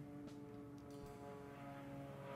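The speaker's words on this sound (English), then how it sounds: "And we've got a plane going by." An airplane passes overhead outdoors, a steady low engine drone with faint whooshing, distant and quiet, holding level throughout with no talk.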